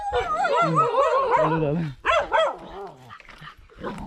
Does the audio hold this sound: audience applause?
no